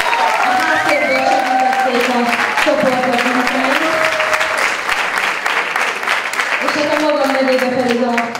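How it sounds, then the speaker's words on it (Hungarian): Loud, sustained audience applause at a student theatre festival, many hands clapping continuously while someone talks over the crowd. "egy nagy tapsot ők is"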